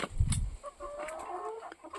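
Hens clucking softly nearby with short, scattered calls over a low rustle, a brief louder burst at the start.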